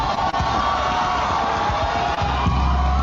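A big crowd cheers, whoops and applauds without a break at the Miss Universe Costa Rica 2025 grand final, a dense and loud roar of voices and clapping that stays steady throughout.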